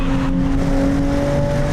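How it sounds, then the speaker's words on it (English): A 2020 Nissan 370Z NISMO drives on a winding road, its exhaust giving a steady, close, mellow drone without any talk. "to me it's still kind of a mellow exhaust note"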